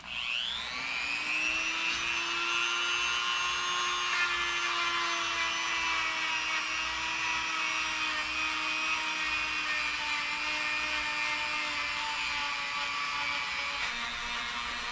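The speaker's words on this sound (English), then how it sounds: "So I'm going to get a couple little wire wheels on our Dremels and we'll get to work on it." Dremel rotary tools fitted with small wire wheels cleaning old big-block cylinder heads, a loud steady high-pitched whine that spins up at the start and holds for the whole span with gritty wire scratching beneath, no talk.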